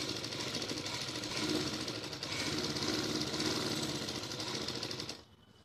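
Sewing machine stitching a salwar, a fast, even mechanical rattle running steadily up close for about five seconds before stopping abruptly.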